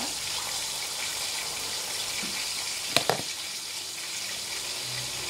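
A kitchen tap runs steadily as tomatoes are rinsed under it, a continuous broadband hiss of flowing water with a couple of brief knocks near the middle.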